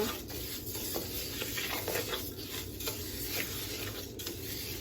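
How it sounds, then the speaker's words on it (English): Long grain rice being stirred while it toasts in a pan for Mexican rice, a soft continuous patter and light sizzle with scraping strokes, close and steady with no voices. "So you just want to keep stirring your rice because they're toasting up."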